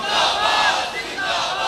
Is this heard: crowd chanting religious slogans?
yes